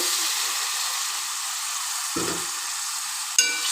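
Grated tomato pulp goes into a loudly sizzling koyyinga fish curry, giving a bright, steady hiss up close with a soft thud as the pulp lands and a sharper clink near the end.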